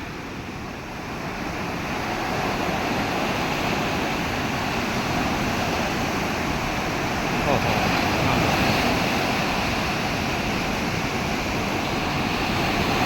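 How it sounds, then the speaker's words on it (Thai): Sea waves break and surge onto a beach shore, a loud, continuous roaring wash with a rising swell partway through and some wind buffeting the microphone, no voices over it. "บรรยากาศ ธรรมชาติคลื่นทะเลนะครับธรรมชาติสร้างสรรค์ สวยงาม"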